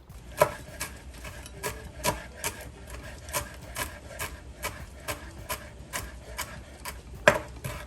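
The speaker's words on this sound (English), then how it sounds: "we're going to chop up some parsley" A knife taps rhythmically against a cutting board chopping parsley in quick regular strokes, close and fairly crisp, with one louder knock near the end.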